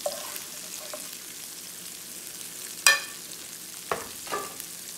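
Peri peri fish and vegetables in a pan under a faint, low sizzle, broken by a few distinct utensil scrapes and a clink near the middle, close but quiet.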